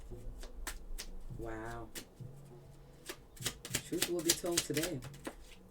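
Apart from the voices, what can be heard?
shuffling tarot cards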